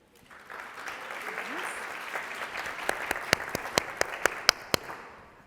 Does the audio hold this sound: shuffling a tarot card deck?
no